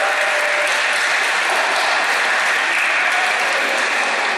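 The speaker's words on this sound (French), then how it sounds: "On peut applaudir Mathilde de Nazareth." A church congregation at a Christmas Eve Mass applauds steadily, a dense, even wash of clapping with no pauses.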